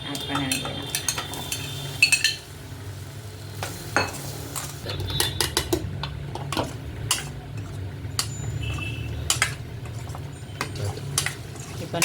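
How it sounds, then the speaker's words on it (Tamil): Paneer pieces roast in butter in a pan, with soft sizzling and repeated clinks and scrapes of a stirring spoon against metal, fairly quiet throughout. "இப்போ நல்லா பன்னீரை வந்து நம்ம பட்டரில் ரோஸ்ட் பண்ணணும் ஒரு 5 மினிட்ஸ் கிட்ட."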